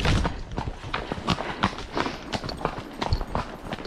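Hooves clop on the ground in a quick, uneven rhythm, close by, as a saddled endurance horse walks briskly along with some rustling in between.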